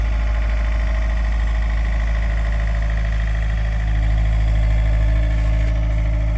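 Excavator engine idling nearby, a loud steady low rumble with mechanical vibration and a constant hum, rising slightly in load partway through.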